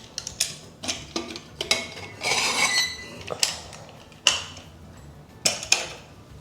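A pressure cooker is opened after cooking a plantain tamarind curry: metal lids and pots clink and clatter close by in a string of sharp knocks, with a brief scraping stretch in the middle and no talking.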